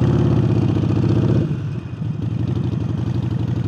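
Harley-Davidson 48 motorcycle fitted with a new air intake, its engine loud and close, with a deep lumpy pulsing idle that drops slightly in level partway through before settling back into a steady throbbing rhythm.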